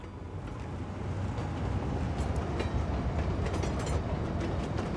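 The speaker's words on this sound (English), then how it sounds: "Oh, but I remember this train. Hello, train." A train rolls past in the city-building game Cities Skylines II, a steady broad rumble that swells after the first second and holds loud and close throughout, with faint rail clatter and no talk over it.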